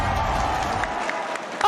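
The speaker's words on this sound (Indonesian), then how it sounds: "minta tepuk tangannya" The arena audience at an MPL Season 10 Mobile Legends esports match between Alter Ego and RRQ Hoshi gives a burst of applause and cheering, with the announcer's voice over it.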